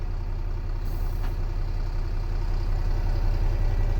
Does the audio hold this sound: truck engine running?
yes